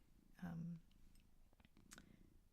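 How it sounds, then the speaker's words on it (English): A pet cat sitting close by purrs in a soft, low rumble under a quiet, breathy indoor background; the purr is faint, with a brief stronger swell near the start. "he is being a little purry today, which is cute"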